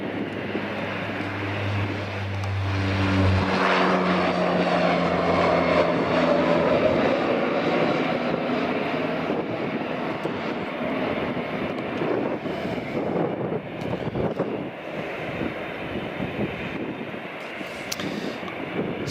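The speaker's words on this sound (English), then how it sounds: "Right, here goes the Saab 340." A Saab 340 turboprop roars steadily at Aberdeen Dyce Airport, a loud sustained engine drone with a low propeller hum that fades slightly while wind buffets the microphone.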